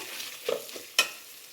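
Cumin, pepper and garlic being stirred in hot oil, a soft sizzle under two quick scraping strokes of a spoon against the pan, close and brief, the second scrape sharper.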